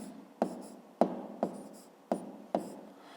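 A maths expression being written by hand, five or six sharp, close taps and strokes spaced irregularly, with short scratchy scribbling between them and no voice.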